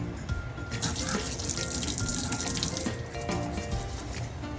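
Water pours steadily out of a container into a kitchen sink, a continuous loud splashing rush that holds for several seconds with slight surges and clatter.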